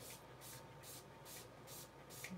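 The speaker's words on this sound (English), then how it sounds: "Now I'm going to do the alcohol in the spray bottle" A spray bottle misting alcohol onto silk for ink dyeing, six quick evenly spaced spritzes in a steady rhythm, close and faint against a quiet room.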